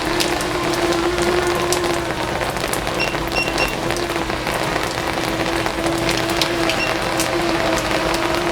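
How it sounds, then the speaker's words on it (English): Medium rain falls steadily outdoors, a dense continuous patter and hiss of drops on surfaces, loud and unbroken, with a faint tonal hum running underneath. "So this is a pretty medium rain,"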